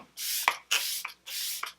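MAC Fix Plus setting spray misted onto a face in three close, soft hissing bursts, each about half a second long with a short click at the end.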